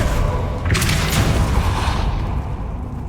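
A Depulso spell cast in Hogwarts Legacy lands as a deep whooshing boom, a single blast with a bright burst on top that swells and then fades slowly into a low rumble.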